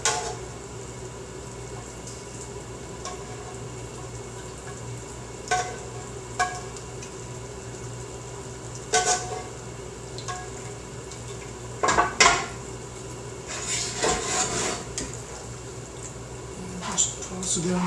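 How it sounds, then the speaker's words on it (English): Linguine being tossed into clam sauce in a pan, with scattered clinks of metal utensils against the pan and soft wet stirring over a steady low background hum; a voice talks through much of it. "I'm just going to move the pasta in the this case it's linguine into the clam sauce to finish cooking there."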